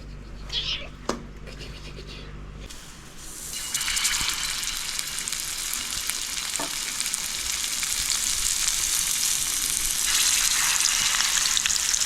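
Mackerel frying in oil, the sizzle flaring up loudly after a few quieter seconds and then hissing and spattering steadily and close, with voices faintly in the background.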